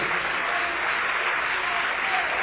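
A church congregation claps steadily in a dense, even wash of applause that holds at the same level without a break.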